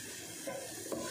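Onions sauté in a pan as a soft, low sizzle runs through a brief moment, with a couple of faint stirring scrapes and no voices.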